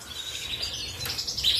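Goldfinches and canaries kept indoors in cages, several birds chirping and twittering at once in a steady, bright chatter with short high tweets, close by and fairly loud.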